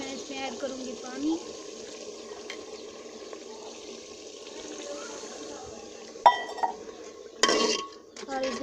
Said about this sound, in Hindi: इसके साथ मैं इसमें ऐड करूँगी पानी।